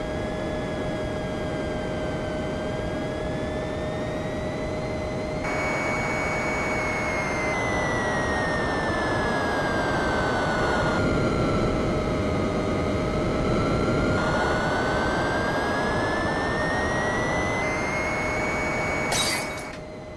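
A video game jet engine during a flight segment of a Back to the Future game: a steady, loud synthesized whine with hiss, its pitch sliding up and down, alone without voices.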